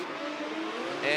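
A Toyota JZX90 drift car's engine during a Formula Drift ProSpec battle run, a steady high engine roar that rises and brightens toward the end, with commentary over it.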